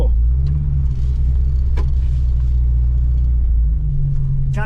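Vauxhall Nova car on a short test drive, with a strong, steady low engine rumble and road noise from inside the cabin, a couple of faint knocks over it, no speech.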